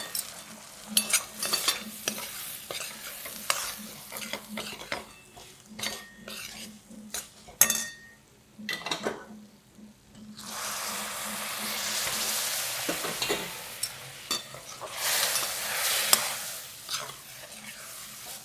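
Moong dal halwa is stirred in a pan as liquid is poured in little by little, with a spoon clinking and scraping against the metal over a soft sizzle, in irregular bursts.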